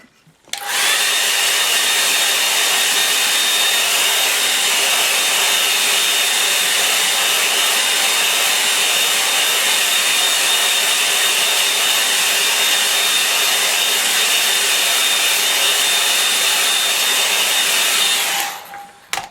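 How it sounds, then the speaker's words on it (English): A hair dryer runs loud and steady for about eighteen seconds, a constant airy whir with a thin high whine, then switches off. "I'll give that a bit of a help with the hairdryer."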